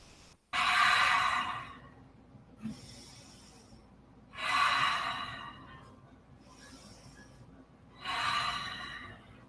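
Slow, audible breaths from a yoga student holding a forward fold, three long breathy swells roughly every four seconds with quieter gaps between, close and soft with no talking.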